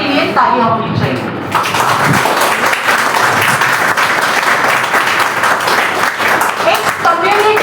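An audience claps at a DXN Women's Day celebration, producing loud, dense applause that holds steady for several seconds. A voice speaks into the microphone just before the clapping and again faintly as it fades.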